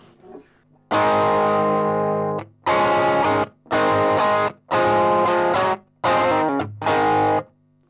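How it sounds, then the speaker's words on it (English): Distorted electric guitar plays six sustained, overdriven chords separated by short pauses, each ringing with a thick, saturated tone. "that's my intro sound, or my main overdrive sound for the song"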